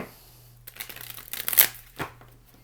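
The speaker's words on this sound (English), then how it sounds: "If I can shuffle worth a damn." Tarot cards being shuffled by hand, a quick run of papery riffles and flutters rising to a louder burst, then one short final tap, close and clear in a quiet room.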